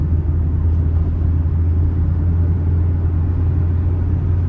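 A 1999 Hyundai Lantra 1.6 with a four-speed gearbox cruises on a highway, its engine and road noise forming a constant low droning rumble from inside the car, with no talking.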